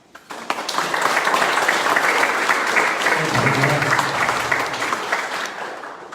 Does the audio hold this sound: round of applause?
yes